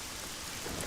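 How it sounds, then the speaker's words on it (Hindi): Steady rain falls outside with a faint low rumble of thunder beneath it, a continuous wash of noise filling the whole second with no voices. "बारिश आ रही है बाहर, जल्दी आओ।"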